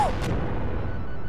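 A video game explosion destroys a cursed Thomas the Train, a single loud broadband boom with a sharp burst near the start that decays into a long rumbling tail.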